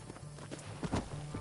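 Horse hooves clip-clop in Red Dead Redemption on PS5, a quiet steady run of soft hoof beats with faint talk underneath.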